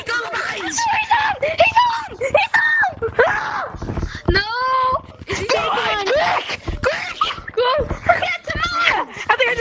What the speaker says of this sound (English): everybody's screaming like heck in the party